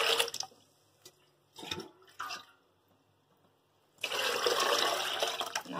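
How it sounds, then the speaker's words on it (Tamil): Water pours into a pressure cooker holding rice and toor dal, coming in several short splashing bursts and then a longer, louder steady pour at the end. "4 பங்கு நான் தண்ணி ஊற்றுறேன்."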